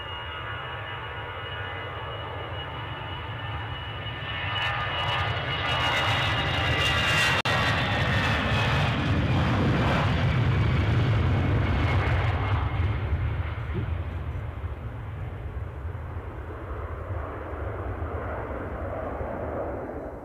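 A jet airliner departing Edinburgh airport sends up a distant rumbling roar that swells midway with a rising engine whine, then slowly fades, heard alone without talk.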